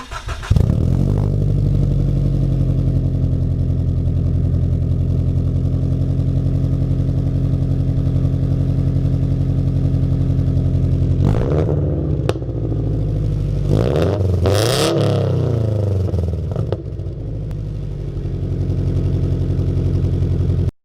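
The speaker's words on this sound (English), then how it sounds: "we're gonna do a cold start and see how it sounds" A car engine with an aftermarket GReddy single-tip exhaust fires up with a loud cold-start roar, then settles into a deep, throaty idle, with several sharp revs blipped near the end.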